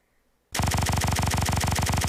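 A fully automatic gun in the Roblox game Area-47 opens fire abruptly after a short silence, a loud, steady, very rapid stream of shots that continues to the end.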